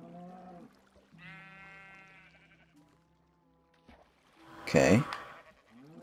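A sheep in the video game Minecraft bleats in short wavering calls. A louder burst comes near the end, and someone speaks briefly over the calls.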